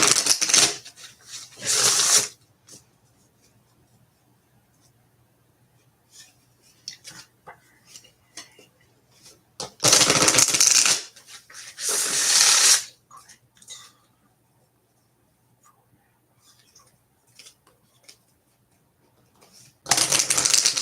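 Tarot cards cut and shuffled by hand, loud riffling bursts at the start, around the middle and at the end, with faint scattered handling noises in the quiet gaps.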